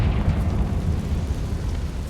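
Confringo blasting spell in Hogwarts Legacy, a sustained low explosive roar with crackling debris, steady and fairly loud, with no clear separate bursts.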